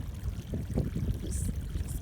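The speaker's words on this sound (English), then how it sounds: "The spring is right in the middle" A small mountain spring near Mount Saint Helens trickles and pours steadily, a close, soft gurgling wash of water running on its own with no voices.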